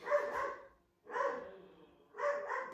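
A puppy at home gives three short, high-pitched barks or yelps, each a brief harmonic burst with pauses between, close and fairly quiet, with no talking.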